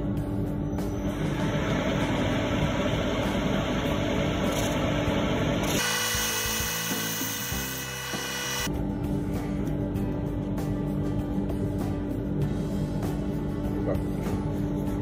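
A wood lathe whirs steadily as a plane-wood bowl is hollowed, with a continuous scraping tool noise that briefly shifts into a higher, brighter whine midway before the steady cutting resumes, close and without talk.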